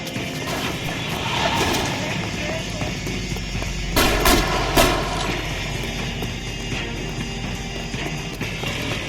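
Gunfire and impacts in the crime game L.A. Noire, set in 1940s Los Angeles, with a few sharp bursts standing out over constant rumbling game noise and background activity.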